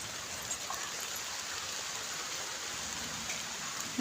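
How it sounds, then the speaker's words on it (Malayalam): Steady rain falls throughout, a constant dense hiss with scattered drops pattering nearby, fairly loud and unbroken. "മഴ പെയ്യുന്നുണ്ട് കൂട്ടുകാരെ എൻ്റെ ഫോണിലൊക്കെ ചിലപ്പം വെള്ളം വീഴുന്നുണ്ട്"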